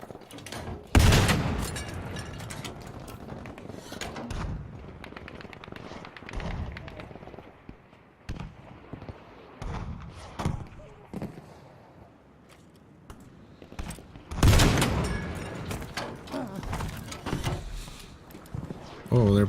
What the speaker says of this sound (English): Man, I love stationary weapons in Battlefield.